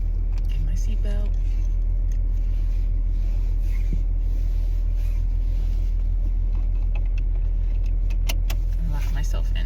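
Inside a parked car, a seatbelt is drawn out and buckled. Light rattles and a few sharp clicks of webbing and metal buckle sound over a low, constant engine rumble.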